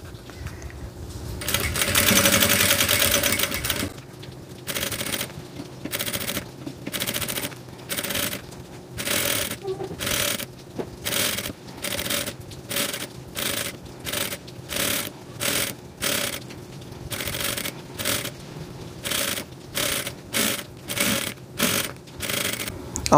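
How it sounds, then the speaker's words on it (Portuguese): A sewing machine stitches bias binding slowly around a curve on a school hygiene kit, running in a burst and then in short, regular pulses of machine whir with brief pauses, close and clear, with no talking. "não vou acelerar o vídeo nesse momento, que é para vocês verem como eu passo devagarinho a costura aqui"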